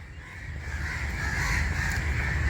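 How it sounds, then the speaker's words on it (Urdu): Crows caw among other calling birds outdoors, their harsh calls steady and fairly loud over a dense wash of background noise. "یہ پرندوں کی آوازیں سن رہے ہیں"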